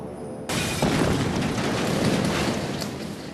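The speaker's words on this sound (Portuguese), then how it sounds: "Nosso teste reproduziu fielmente a explosão." A test bomb detonates under a table: a sudden loud boom that erupts and rolls on as a dense, sustained roar of blast noise and debris, close and overpowering.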